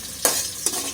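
Green chillies frying with onions in hot oil, a steady close sizzle broken by two brief stirring scrapes, with no talk.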